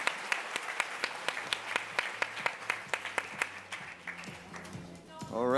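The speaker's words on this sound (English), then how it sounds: "Round of applause for Madam Suzanne." An audience at a Shark Tank-style innovation pitch event in Austin gives a round of applause: scattered, fairly steady claps over several seconds, with a voice talking at the same time.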